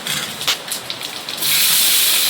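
Whole garam masala and cumin seeds hitting hot oil, a steady broadband sizzle that swells louder halfway through and holds, close and alone.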